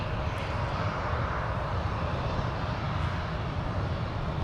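Steady, continuous engine roar of an airliner at Minneapolis–Saint Paul airport, heard at moderate distance. The broadband rumble holds constant with no talk over it.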